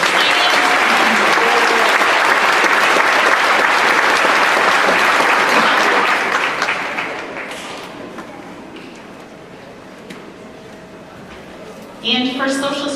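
Audience clapping at a junior high school awards ceremony, loud sustained applause for several seconds that gradually fades and thins out, then a brief knock and a voice over the PA as the announcer resumes.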